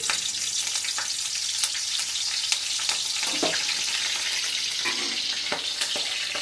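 Green chilies crackle and sizzle in hot oil for a chicken curry, giving a steady, close frying hiss with sharper pops and a few spoon scrapes, and no voices.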